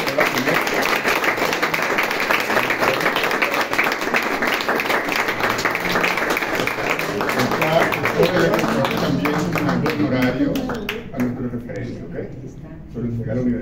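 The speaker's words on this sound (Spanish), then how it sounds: "Tú mereces un aplauso." Applause at a university ceremony as an honorary professor title is presented to composer Adelis Fréitez, a steady, dense wash of clapping that thins out near the end, with a voice speaking over it.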